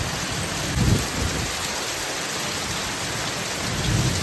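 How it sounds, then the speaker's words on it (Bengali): Heavy rain after a storm falls in a dense, even hiss, with a couple of low rumbling swells; no one speaks. "কিন্তু বৃষ্টিটা ভালোই হচ্ছে"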